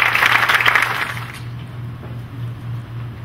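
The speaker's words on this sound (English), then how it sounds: "A round of applause, please." A lecture audience at the University of Santo Tomas breaks into applause. The clapping bursts loudly for about a second and a half, then fades out, leaving a steady low hum.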